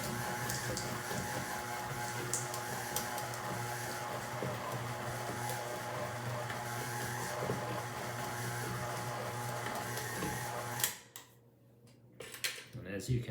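An electric stand mixer churns chocolate chip cookie dough with walnuts, giving a steady close mechanical whir and clatter that runs evenly, then cuts off abruptly near the end as it is switched off.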